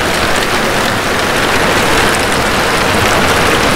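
Heavy rain pours steadily during a thunderstorm onto a tin roof shelter, a loud, dense, continuous hiss with no voices.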